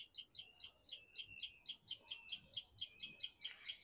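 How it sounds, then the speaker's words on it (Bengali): Small birds on a rooftop garden call in a fast, regular series of high chirps, about four per second, moderately near over a faint background. "ওটা যে কোন পাখিটা ডাকে, ওই পাখিটা আমি বুঝতেছি না।"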